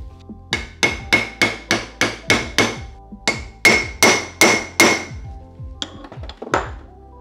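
A hammer drives a wheel seal into a front hub of a Toyota AE86, about fourteen sharp ringing metallic blows in a steady rhythm with a brief pause midway, then a few lighter taps.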